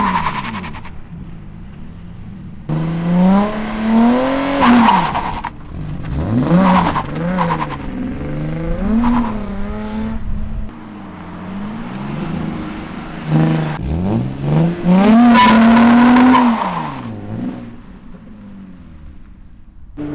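Engine of a newly bought drift car revving repeatedly, loud and close, rising and falling in pitch through several throttle blips with idle gaps between, the strongest rev near the end.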